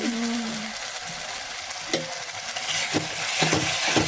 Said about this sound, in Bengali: এবার দিয়ে ভালো করে কষিয়ে নেবো।